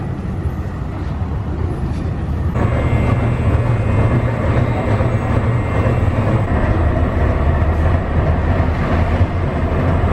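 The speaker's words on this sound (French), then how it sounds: "Après une dizaine de minutes en tram" A tram ride in Antalya, Turkey, with a steady low rumble and rolling hum from inside the carriage that swells slightly after a couple of seconds and continues unbroken.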